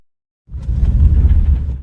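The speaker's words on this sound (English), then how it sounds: "and a quake sound that's heard from afar," A low, rumbling quake from a Doom total-conversion mod's hell cave rolls in after a short silence, sounding distant and heavy, swelling and sustaining for over a second before stopping.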